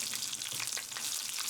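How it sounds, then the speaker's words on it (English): Dried guajillo and morita chiles fry in hot oil, a dense continuous sizzle with crackling pops, close up and steady for the whole moment. "You can hear them frying."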